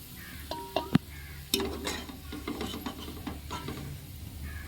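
Onions fry in a pan while a utensil stirs and scrapes, with a few sharp metallic clinks early on over a light, crackling sizzle.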